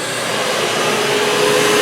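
Bauer 9-gallon wet/dry shop vacuum running in blower mode, a steady, loud broadband whoosh of rushing air with a faint motor whine, continuous and unbroken throughout.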